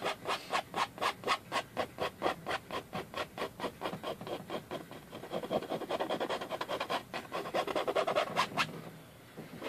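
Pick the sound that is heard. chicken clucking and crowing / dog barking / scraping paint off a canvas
scraping paint off a canvas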